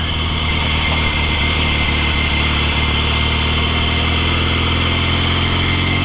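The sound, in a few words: 1963 Royal Enfield Interceptor motorcycle engine, downshifting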